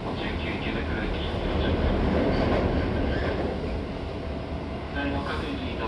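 A Seibu Shinjuku Line 6000 series train with Hitachi GTO traction gear runs along, giving a loud steady rumble and roar heard from on board, with faint higher whine and rail clatter throughout.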